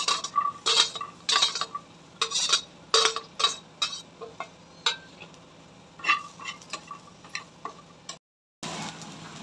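Finely chopped onion roasting in a pan while a metal spoon stirs and scrapes it, making repeated clinks and scrapes over a soft sizzle, close up, with a short silent break near the end.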